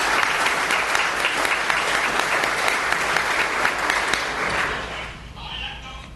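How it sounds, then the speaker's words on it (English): An audience at a Joplin ATTC ribbon cutting ceremony claps loudly and continuously, then the applause fades as a voice begins speaking. "Please give yourselves a round of applause."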